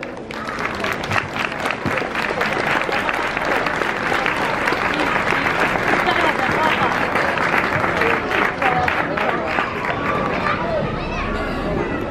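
Loud, dense applause from a folk festival audience in Madridejos fills the whole stretch steadily, with crowd chatter blended underneath.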